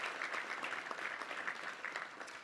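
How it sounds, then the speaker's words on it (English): Luncheon crowd at a Little Rock Touchdown Club meeting applauding, steady mid-distance clapping from many hands with a few sharper claps, alone and without speech. "let's give all of them a round of applause for all the sponsorships there"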